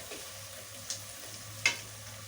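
Browned onions soften in a pan for a fish curry, with a faint low sizzle and two sharp clinks of a stirring spoon against the pan.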